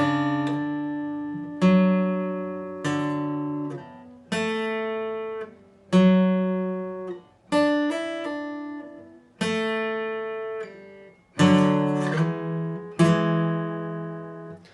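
A guitar played slowly, one plucked note or chord ringing at a time with steady gaps, about nine bright attacks decaying before the next, alone with no talking; the intro of a song.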